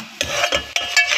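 Arvi (taro root) masala with salt is stirred in a pan, with four scraping strokes in a steady rhythm, close and clear, with a light sizzle between them.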